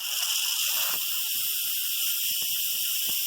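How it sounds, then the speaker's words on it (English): Steam hisses steadily from an Instant Pot pressure cooker after cooking spaghetti, a loud continuous close-up hiss with faint clicks and rustles beneath it, cutting off abruptly at the end. "Okay, so all the steam is out."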